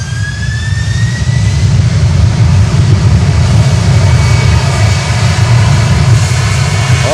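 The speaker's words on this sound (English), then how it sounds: "767 freighter." A FedEx Boeing 767 freighter takes off at Miami airport, its jet engines roaring loud and steady with a deep low rumble and a rising whine, continuous throughout with no voices.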